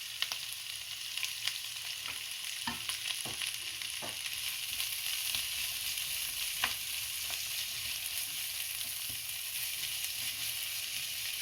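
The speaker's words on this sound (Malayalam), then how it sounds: "വെളുത്തുള്ളി ഇടാം" Garlic frying in hot oil with onion and ginger for a kingfish curry, a continuous close sizzle with a few clanks of stirring and no talk.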